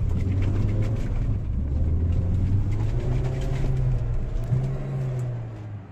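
A Mercedes-Benz 190E with an M102 engine is driven while drifting. The engine hums steadily and then rises and falls as it revs, moderately loud with a low rumble and no talk.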